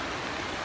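Rushing floodwater during a super typhoon in Mindanao, a steady broadband roar of flowing water, close and continuous with no break.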